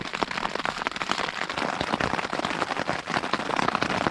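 Heavy rain drums on a tent in a dense, constant patter of close, crackling drops with no break.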